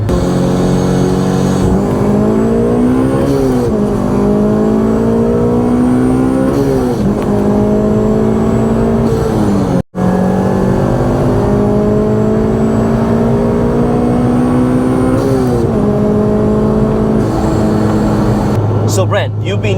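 A Rotrex-supercharged 2008 Honda Civic Si engine revs hard through repeated rising gear pulls, loud and close from inside the car, with a high whine over the roar.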